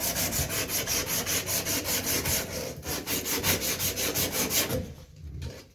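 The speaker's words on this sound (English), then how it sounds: "sand it down. Make sure you get the bottom." A pipe for a tub spout is sanded by hand in quick, regular back-and-forth strokes, a rhythmic rasping scrub about three strokes per second, close and loud, stopping near the end.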